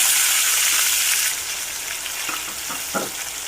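Onions and green chillies hiss and sizzle steadily in a hot pan, loud and close, with a few clinks of stirring near the end.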